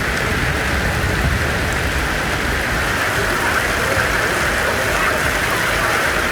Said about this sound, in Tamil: சுற்றுவட்டார பகுதிகளில் கனமழை வெளுத்து வாங்கியதால் விவசாயிகள் மகிழ்ச்சி அடைந்தனர்